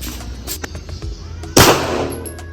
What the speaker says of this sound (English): So we're gonna go to a shooting range now